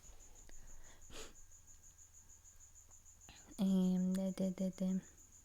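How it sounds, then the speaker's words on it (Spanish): A cricket chirps steadily in the background, with a louder burst of chirps near the end; no one speaks. "hay un pinche grillo chingando la madre al fondo"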